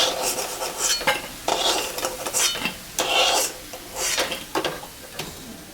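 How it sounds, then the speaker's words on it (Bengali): Carrot pakoras in hot oil with a steady sizzle, broken by repeated scraping and stirring strokes of a utensil against the pan, close and fairly loud, no talking. "আমি গাজরের পকোড়া ভাজলাম"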